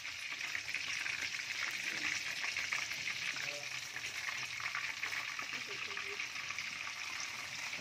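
Sardine fish frying in oil, a continuous soft sizzle and crackle at moderate distance, steady throughout with light pan sounds underneath.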